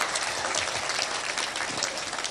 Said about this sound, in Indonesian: tepuk tangan yang meriah sekali lagi hadirin sekalian